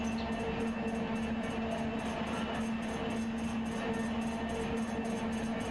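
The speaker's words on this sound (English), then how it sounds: "Sounds like a break is still on, King Bash." Simulated freight train rolling with a brake still dragging in the Run 8 multiplayer train simulator, a steady loud rumble with a sustained low hum and faint squealing overtones, continuous throughout with no talk.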